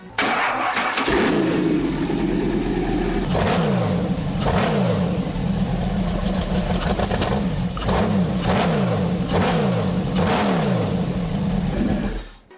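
A high-speed motorcycle engine fires up, then revs repeatedly in rising and falling surges over a steady idle, loud and close, with no voices.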